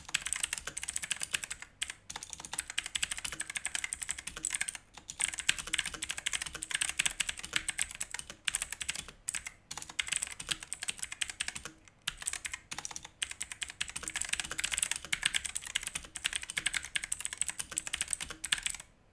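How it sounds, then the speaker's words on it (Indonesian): Rapid, dense clatter of a Gamen Titan Elite gaming keyboard with many keys pressed at once, a continuous close-miked stream of clicky keystrokes with only brief pauses and no talking. "Jadi kalian bisa pencet tombol ini secara banyak bersamaan."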